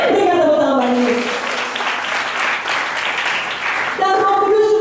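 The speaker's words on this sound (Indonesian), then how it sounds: "Berikan tepuk tangan bagi Yesus" A church congregation applauds for Jesus, a loud, full burst of clapping that comes in between stretches of speech and then falls away as talking resumes.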